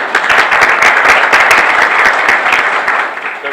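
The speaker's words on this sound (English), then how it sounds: "Stand up and let us clap" Loud, steady audience applause from a seated crowd at a public education event, many hands clapping continuously for several seconds with no talk over it.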